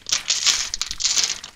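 A plastic bag holding a computer I/O shield crinkles and rustles as it is opened during a budget gaming PC build, a close, crisp crackle in two bursts with no talk.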